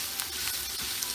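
Minced meat frying in a pan for a Turkish çökertme kebab, a steady close crackling sizzle with small pops, no voices over it.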